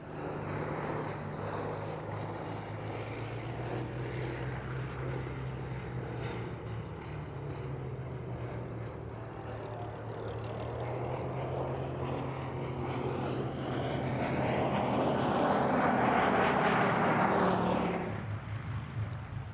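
Gloster Gladiator, a 1930s RAF propeller biplane fighter, flies over an airshow, its engine drone steady throughout and swelling louder near the end as it passes closer.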